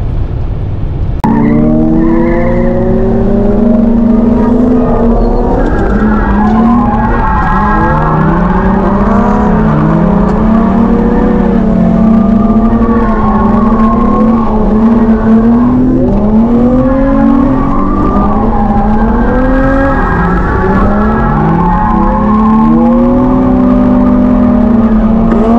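A car slides around a skid pan, its engine revving and rising and falling while the tyres squeal in long wavering tones, loud and close for the whole lap, with no talking.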